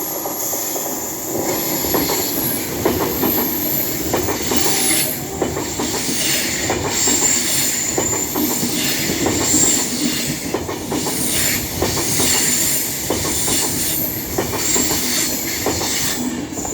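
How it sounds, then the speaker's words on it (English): An Avanti West Coast Class 390 passes on the West Coast Main Line at Cheadle Hulme, heard as a loud, sustained rush with steady wheel clatter, rail hiss and squeal that fills the whole stretch without letting up. "Now coming through is an Avanti West Coast Class 390 running from London Euston to Manchester"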